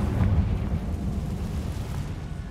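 Confringo blast spell exploding in Hogwarts Legacy, a loud, low, rumbling boom that rolls on steadily with little decay, with no voice over it.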